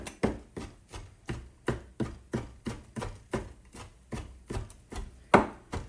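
A knife chops through fatty beef bacon on a board in steady, forceful strokes, about fourteen heavy thuds evenly spaced, close and clear with no talking.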